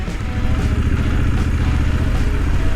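A motorcycle rides off-road past ruins, its mid-pitched engine running steadily and close with a continuous throbbing drone and light clatter throughout.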